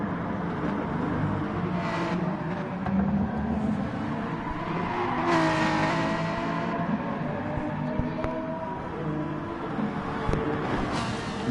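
Race cars, one of them a BMW, roar and accelerate on a circuit in a steady, dense engine drone, with rising revs and passing swells layered throughout.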